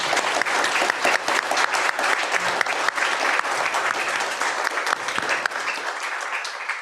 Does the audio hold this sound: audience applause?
yes